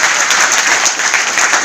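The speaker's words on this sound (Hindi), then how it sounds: "तो जोरदार एक बार तालियां बजा दो भाई।" A crowd at a National Service Scheme camp event bursts into loud, close, dense applause, a continuous flutter of many clapping hands with no speech over it.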